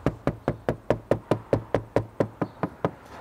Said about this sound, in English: If you don't have any nails, you might just want to have a tap, see what you can find.